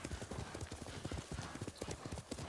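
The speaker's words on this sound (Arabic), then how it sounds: "وايضا لما تركب الحصان" Horse hooves clip-clop in a quick steady gallop while riding in the video game Ghost of Tsushima, an even rhythmic pattern at a quiet level under faint background voice.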